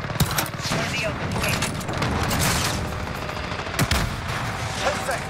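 Rapid FAL rifle shots in the video game Modern Warfare, loud and dense, crackling in bursts with a few sharper reports, under a continuous busy game soundscape.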